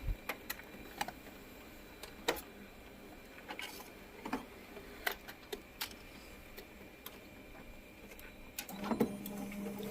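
A laser printer printing a design onto a glossy sheet, giving faint mechanical whirring with scattered clicks and ticks in an irregular rhythm, closing with a brief motorized hum as the sheet feeds out.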